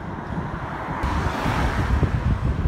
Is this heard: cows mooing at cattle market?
no